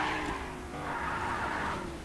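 A vehicle drives in the video game Fortnite, a steady noisy engine and tire roar at moderate level with no talking.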